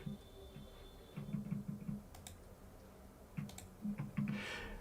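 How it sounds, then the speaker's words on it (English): Quick, light clicking bursts of typing on a computer keyboard, in short irregular runs with pauses between them, close by and fairly faint. "I'm typing."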